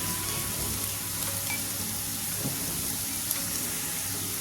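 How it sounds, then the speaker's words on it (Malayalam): Chicken curry mixture with chicken masala and spices stirred in a pan, a steady close sizzle and fry hiss running throughout with faint scraping of the spoon, no voices. "രണ്ട് സ്പൂൺ ചിക്കൻ മസാല ചേർത്ത് കൊടുത്തിട്ടുണ്ട് ഒന്ന് ഇളക്കി കൊടുക്കാം"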